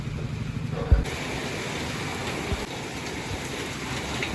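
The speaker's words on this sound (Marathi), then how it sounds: "बाहेर अजून पण पाऊस भयानकच पडा लागलाय" Heavy rain pours down outside in a steady, dense wash of noise, with a brief thump near the start and the downpour continuing evenly throughout.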